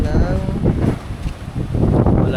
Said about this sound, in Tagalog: Kanina umaambon pero lakas pa rin ang hangin